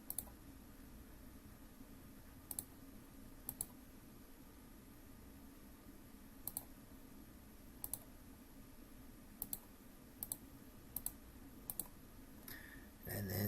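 Calculator keys pressed one at a time to enter matrix numbers, giving sparse, quiet, sharp clicks in small irregular clusters over a faint steady hiss, with no talking.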